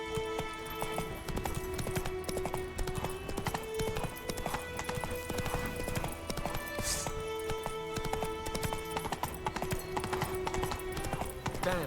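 A horse gallops steadily in The Witcher 3, its hooves clip-clopping in a fast, even rhythm that runs throughout at close range, with a brief snort along the way.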